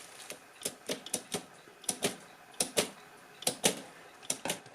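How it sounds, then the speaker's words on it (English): Sharp mechanical clacks from a stiff spring being worked loose with methylated spirits on an Imperial Good Companion typewriter under restoration, about a dozen irregular close clicks and snaps with quiet gaps between. "I'll just keep adding a little bit of methylated spirits and working the spring until it frees up enough"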